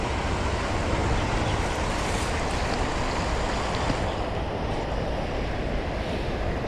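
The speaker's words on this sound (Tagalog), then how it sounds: "Malakas kasi yung agos dito eh." A strong river current rushes in a steady, loud wash of flowing water where people fish for carp, with a broad roar and no pauses throughout.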